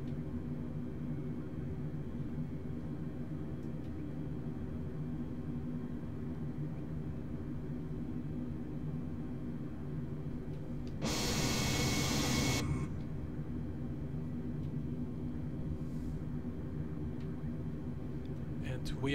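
Turkish Airlines A320 engines spooling toward takeoff thrust in a simulated cockpit, a steady broadband roar and rumble that holds throughout, with a brief louder hissing surge near the middle.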